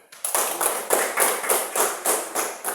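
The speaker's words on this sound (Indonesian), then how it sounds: "Oke, tepuk tangan dulu." A class of children clapping their hands together in a slow, even rhythm, about a dozen distinct group claps close by with no talking over them.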